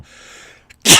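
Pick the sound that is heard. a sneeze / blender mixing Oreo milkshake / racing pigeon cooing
a sneeze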